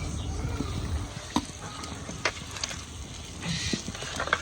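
Beef or chicken liver sizzling in a hot pan in a village home kitchen with coriander leaves and green chillies, a soft steady crackle punctuated by a few sharper clinks and stirs.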